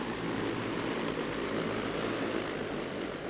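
A Freefly ALTA X drone comes in to land, its propellers giving a steady, loud whirring drone that holds evenly throughout with no voices.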